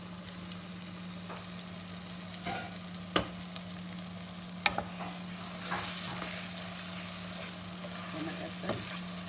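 Chopped tomatoes tipped into onions frying in a pan for Sudanese-style kuruba mahshi, giving a steady low sizzle broken by a few sharp clacks of stirring and utensil taps, with no talking.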